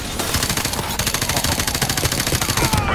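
Sustained automatic gunfire in Call of Duty Modern Warfare Remastered, rapid loud bursts running nearly continuously from start to finish, with faint radio-style chatter barely present.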